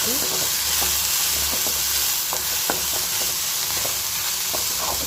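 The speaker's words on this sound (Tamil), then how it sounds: "இந்த வெங்காயம் நல்லா வதங்கணும்" Sliced onions sauté in a pan for tomato chutney, giving a steady close sizzle with scattered clicks and scrapes from stirring throughout, and no talking.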